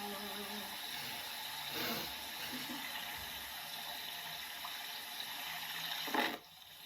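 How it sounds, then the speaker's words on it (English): Steady, gentle running water fills the clip, a continuous soft wash with a brief louder splash near the end. "Just the sound of water is magic."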